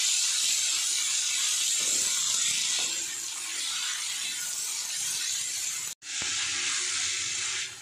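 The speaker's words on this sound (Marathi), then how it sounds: "कांदा छान आपण 1-2 मिनिटं परतून घेऊया" Chopped onion sautéing in a hot pan for a Maharashtrian kanda jhunka, giving a steady, close hiss and sizzle that runs throughout with a brief break near the end.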